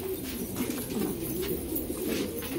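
Pigeons in a breeding loft coo steadily and softly from close by. The low, continuous murmur is unbroken and no one speaks.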